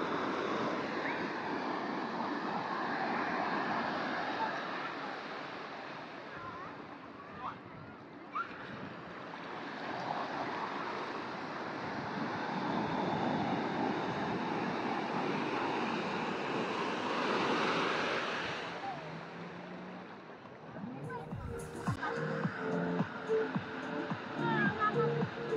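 Surf washing onto a sandy beach on a Thai island, a steady broad rush of waves rising and falling, with wind buffeting the microphone and some handling noise toward the end.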